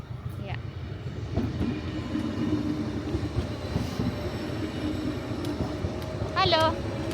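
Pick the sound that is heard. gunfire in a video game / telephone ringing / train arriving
train arriving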